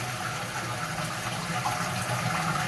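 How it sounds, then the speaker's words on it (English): Water gushes steadily out of a Grohe SL rapid flush in-wall toilet cistern as the discharge valve is held open, a loud, close, continuous draining rush with no talking. "now we just let all the water go by lifting up the discharge valve"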